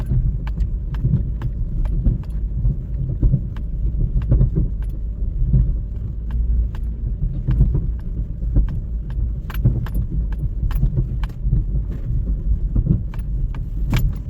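A truck towing a trailer drives along with a steady low rumble, while sharp metallic clinks and rattles from the rig recur throughout at close range.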